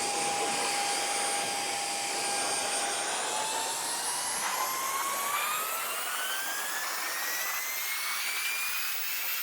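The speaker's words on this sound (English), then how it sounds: "We have our little Ryobi 18-volt blower." Ryobi 18-volt cordless leaf blower drying washed car wheels and tires, a loud, continuous close-up whoosh with a high whine that slowly rises in pitch as the motor spins up.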